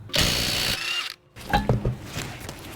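A power tool whirs loudly as a wheel comes off a 2013-2020 Ford Fusion during rear brake work, a sustained burst followed by a pause and then clanking, ratcheting mechanical sounds close by.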